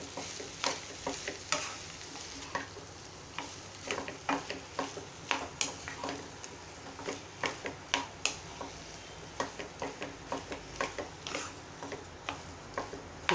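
A vegetable filling for Nashik pav vada, with salt and coriander added, is stirred and mixed in a pan: repeated close scraping and clicking strokes from the spoon come in an uneven rhythm over a soft sizzle.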